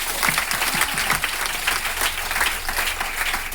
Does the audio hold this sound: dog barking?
no